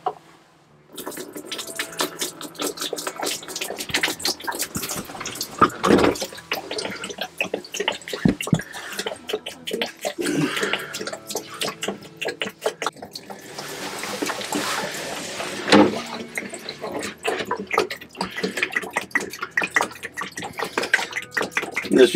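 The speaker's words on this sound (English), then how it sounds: "pour a gallon or 2 of RV antifreeze down the drain, let it pump out" RV antifreeze poured down the drain of a Ranger Tug R27ob boat during winterizing, with a continuous splashing, gurgling pour and dripping that runs steadily, swelling louder in places over about twenty seconds.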